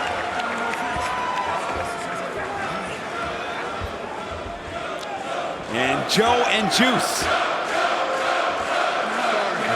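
Wrestling crowd cheering at a Ring of Honor match, a roaring arena din under a commentator's voice that swells louder midway with shouts rising above the noise.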